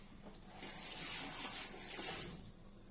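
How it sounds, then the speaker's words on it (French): A dish rinsed under a running kitchen tap, a bright hissing stream of water that swells for about two seconds and then tapers off, fairly quiet and with no talking. "rincer mon plat"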